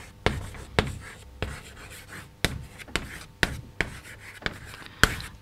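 Marker strokes on a whiteboard during an English grammar lesson: a series of short, sharp squeaky scrapes and taps at irregular intervals, fairly close, with no talking.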